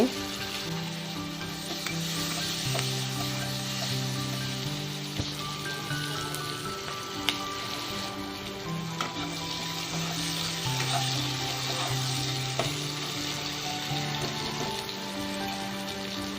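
Chopped onion frying in a pan gives a continuous even sizzle and crackle, steady throughout and heard under background music.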